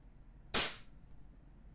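An EMG STI John Wick 3 airsoft pistol loaded with 0.20 BBs fires one sharp, close snap that fades quickly into quiet.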